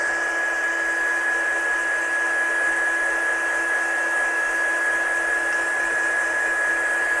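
A heat gun runs steadily on embossing powder for a craft card, giving a constant loud blowing whoosh with a fixed whine that holds without a break from start to end.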